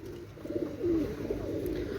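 Soft, low cooing from a pair of KTM Teddy pigeons, a male and a female, repeated in short murmuring phrases close by over a faint background hum.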